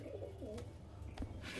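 Pigeons of the Madras breed coo softly in a loft, low murmuring calls that are faint and close against a quiet background.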